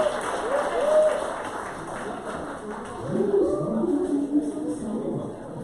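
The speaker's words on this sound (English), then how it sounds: "Let's give another D1 hand clap to the Old Redford Business Association" An audience at an Old Redford Business Association community meeting gives a round of applause, sustained clapping that swells and fades with voices mixed in.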